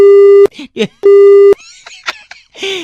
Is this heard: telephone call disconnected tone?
yes